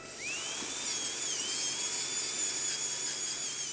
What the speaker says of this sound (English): I'm going to just use the drill just to take this crown off